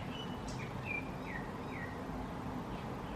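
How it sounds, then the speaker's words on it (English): A bird gives a few short chirps and upward-sweeping calls outdoors, faint against a steady broadband background hiss, with no speech. "The bird agreed."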